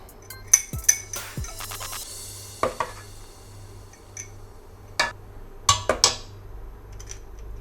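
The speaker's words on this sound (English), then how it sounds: "I'm gonna scoop this into a jar" Kaya coconut jam is scooped into a glass jar: scattered sharp clinks and taps of a utensil against glass, near and crisp, over soft scraping with quiet gaps between strikes.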